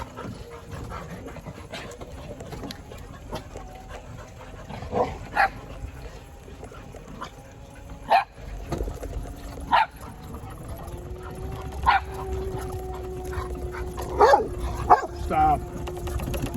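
Dogs on a country farm driveway pant steadily and let out several short barks and yips, fairly faint and spread across the stretch, with a person's voice faintly in the background.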